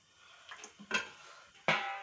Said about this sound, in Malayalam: നമ്മൾ ഇടാൻ ദോശ ഇടാനൊരു പാത്രം എടുത്ത് വെച്ചിട്ടുണ്ട്